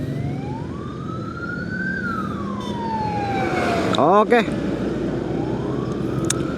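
An ambulance siren wails along a road in Pameungpeuk, Garut, in southern West Java, sweeping up and down before the vehicle passes close by with a sharp pitch drop, loud over steady road and engine noise, with a brief spoken word.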